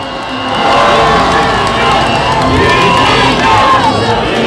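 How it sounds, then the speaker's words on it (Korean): A large street crowd near City Hall Station during a march cheers and shouts loudly, a dense, roaring mass of voices with whoops and some clapping, swelling and holding steady. "박수로 부탁드리겠습니다."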